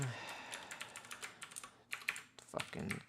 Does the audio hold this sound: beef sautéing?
no